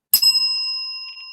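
A single bright ring of a bell, struck once with a sharp metallic ding that lingers as a long, clear sustained tone slowly fading, close and alone.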